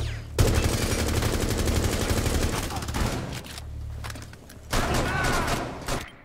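Dense rapid gunfire fills a Rainbow Six Siege match, sustained loud bursts running almost continuously with a brief lull in the middle before shooting resumes, game radio chatter faint underneath.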